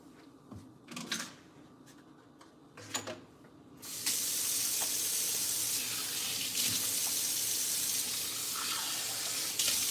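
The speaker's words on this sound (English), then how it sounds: "I'm gonna wash my hands." Water gushes from a kitchen or bathroom tap as hands are washed: a few brief clatters and splashes come first, then a steady, loud rush of running water fills the rest.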